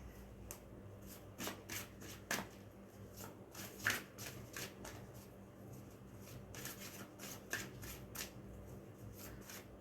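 Playing cards being shuffled and drawn by hand give soft, close riffling and light taps in irregular bursts, quiet against a faint room hum, with no talking.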